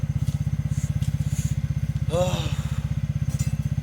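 A motorcycle engine idles close by, a steady rapid low putter throughout with a brief rising rev in the middle, while people talk nearby during preparations for the Ganesha festival.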